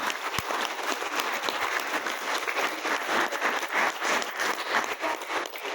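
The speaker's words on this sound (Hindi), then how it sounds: "मैं चाहूंगा आप लोग एक बार अपने आप की कामयाबी के लिए एक बार जोरदार तालियां बजाएं।" An audience at a business motivational seminar claps hard and continuously for their own success, a dense, steady wash of applause lasting several seconds with no talk over it.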